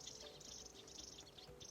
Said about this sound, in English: I can just hear the noise of the birds in the tree behind me.